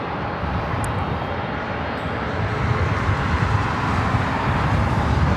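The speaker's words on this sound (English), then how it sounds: "Emirates Flight 216 heading back to Dubai. About to take off on the south side." Emirates airliner on its takeoff roll on the south side of Los Angeles International Airport, a steady, loud broadband engine roar that swells slightly midway and holds without a break.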